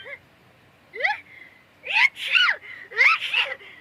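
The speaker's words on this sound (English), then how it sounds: "You gotta sneeze." A cartoonish voice from the video game Genshin Impact builds up with a few rising, breathy gasps, then lets out two loud sneezes in quick succession, close and clear.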